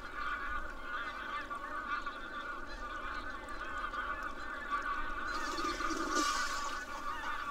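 A flock of several hundred ducks feeding on the water in crocodile country, giving a dense, continuous chorus of honking and quacking calls that holds steady throughout.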